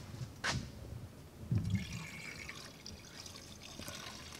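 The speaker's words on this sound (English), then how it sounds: "we're going to go ahead and fill it back up" Coolant is poured to refill the cooling system of a 2004 Volvo S60 after a turbo return line seal repair, giving a faint, steady liquid trickle with a brief gurgling splash near the start.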